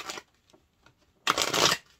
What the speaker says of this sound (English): I'll shuffle it one more time for you